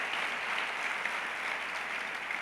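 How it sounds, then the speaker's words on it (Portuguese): Church congregation applauding steadily during a sermon, a dense, even wash of clapping held at constant loudness throughout with no voices on top. "você pode aplaudir Jesus por isso"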